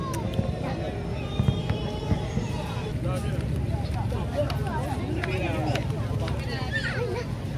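Scattered New Year fireworks crackle and pop over a constant crowd babble and close talking, with sharp bangs rising now and then out of the noisy outdoor din.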